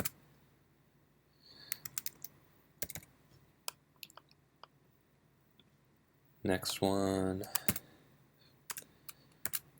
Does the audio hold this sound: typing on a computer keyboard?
yes